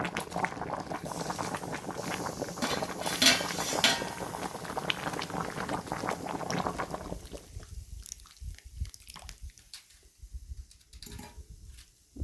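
Green banana and groundnut stew simmers in a pot, a steady bubbling and sizzling that fills the first seven seconds before thinning into scattered soft pops and light clinks.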